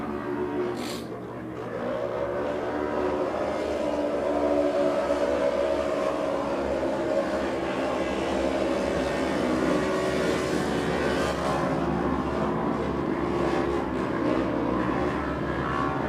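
Big Cars racing on a dirt oval during Saturday main events, a steady loud engine roar sustained throughout as cars run in traffic.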